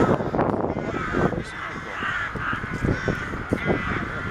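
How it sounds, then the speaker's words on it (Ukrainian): Crows caw repeatedly in an old city park, several harsh calls overlapping at moderate distance over a busy outdoor background. "Ті ворони сидять."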